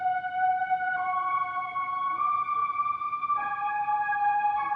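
Saw wave synth melody run through the Unison Sound Doctor plugin, sounding softer and duller than a raw saw, with four gliding sustained notes and a faint noisy bed underneath.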